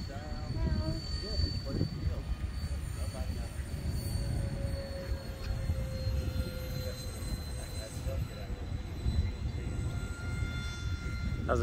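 An electric ducted fan RC model A-10 jet flies overhead, producing a steady, continuous whooshing fan roar with a thin high whine that holds throughout at moderate distance.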